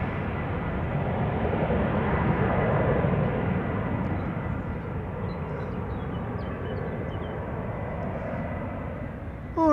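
An Embraer 190 airliner departing Schiphol for London City produces a continuous rumbling jet roar that swells slightly then slowly fades, alone and fairly loud.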